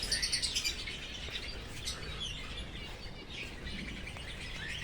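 Small birds in an aviary cage chirp and tweet continuously, bright rapid calls overlapping near and far, busiest at the start, with no voices.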